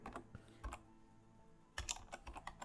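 Short bursts of quick, close keystrokes on a computer keyboard, entering a filter name in After Effects, with a brief pause between two clusters of typing and no talking.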